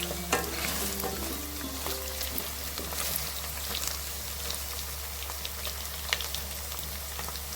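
Something frying and roasting in a pan for a hotel-style paneer masala, giving a steady low sizzle with occasional stirring clicks and scrapes close by, with no talking.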